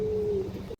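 A healthy Andhra pigeon gives a short, close coo, a single brief call rising over low background noise, with no voices.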